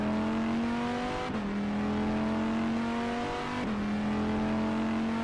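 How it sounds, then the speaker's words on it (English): The old Dodge V10 in a GTE race car, as heard in the rFactor 2 racing game at Sebring, holds a loud, steady high-revving drone that dips twice at gear shifts and climbs again, with no talking. "this car makes a good noise. The old Dodge V10."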